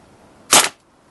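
A single sharp gunshot fired at an Arizona shooting range, loud and close, a sudden crack that decays quickly within a fraction of a second against a quiet background.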